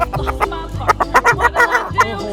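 Chickens at a farm in Pathum Thani cluck in a quick run of short, close, fairly loud calls with low background noise and no talk over them.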